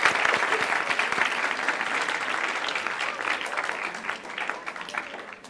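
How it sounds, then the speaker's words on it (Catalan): Audience applause at a university journalism event, a steady burst of close, dense clapping that holds evenly for several seconds and then begins to taper off. "Prenem nota, un aplaudiment."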